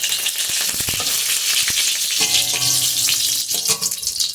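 Dried red chillies fry in hot oil in a wok, giving a loud, steady close sizzle with occasional crackles and stirring clinks.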